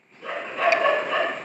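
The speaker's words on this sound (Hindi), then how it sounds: "कुत्ते भौंक रहे हैं।" Dogs bark outdoors in a short, continuous burst of overlapping noise that stays at an even loudness for about a second and a half.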